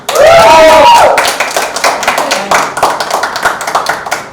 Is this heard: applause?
yes